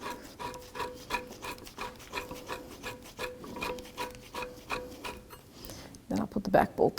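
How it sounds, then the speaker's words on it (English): A nut being threaded by hand onto a front lower control arm bolt of a 1984-2001 Jeep Cherokee, heard as a rapid series of faint scraping ticks that stops near the end as a voice briefly speaks. "Just put the nut on."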